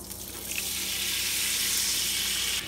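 Champagne deglazing a hot cast iron skillet that still holds the fond from a beef tenderloin steak gives a loud, steady, close sizzle lasting the whole moment, with no voices over it.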